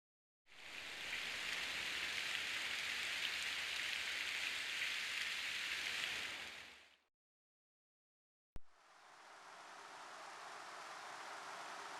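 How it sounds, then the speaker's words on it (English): Steady, even hiss of rain falling in a video game scene, holding at constant level for several seconds, cutting to silence, then resuming softer after a sharp click. "rain begins to fall"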